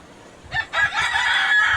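A five-month-old Egyptian Fayoumi rooster crows nearby, one loud drawn-out call that rises after a brief clucking start and holds steady to the end.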